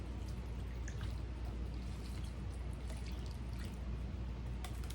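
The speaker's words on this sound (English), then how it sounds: "Let's pour us a can of water over this." A can of water is poured over rolled stuffed bell peppers in a pan, giving a steady close splashing and trickling that runs the whole time with no speech.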